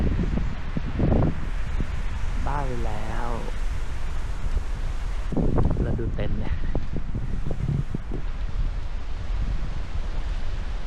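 Cold wind blowing at a hilltop campsite by tents, a steady broadband rush and microphone buffeting throughout, with people talking over it.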